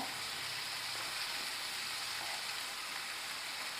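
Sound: curry leaves and green chili sizzling while mixed in pan

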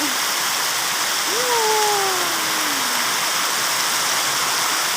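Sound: rain

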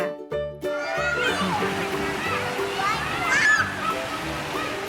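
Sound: child swimming and splashing in water

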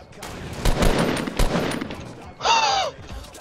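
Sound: gunfire in the video game Fortnite

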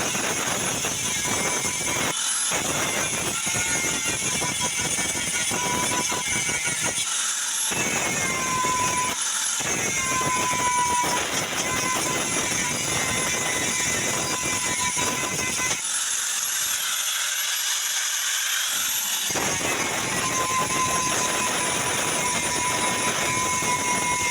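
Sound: grinder grinding a rice cooker part level

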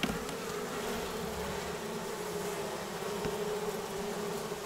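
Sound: honey bees buzzing in a swarm trap

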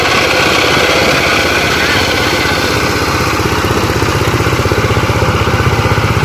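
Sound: tractor engine running

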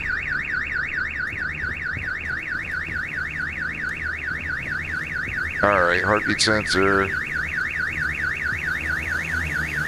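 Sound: car alarm in the video game Call of Duty Modern Warfare 3

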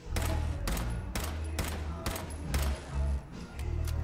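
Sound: gunfire in the Fallout 4 video game

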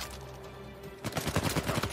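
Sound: gunfire from enemies in video game Uncharted 4

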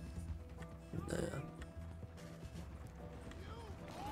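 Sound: horse hooves clip-clop in video game Red Dead Redemption 2

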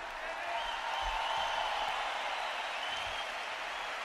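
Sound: stadium crowd applauding band members at a concert

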